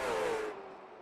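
A short-track race car speeds past the start-finish line, its engine loud and close at first, then the pitch drops and the roar fades quickly as it pulls away.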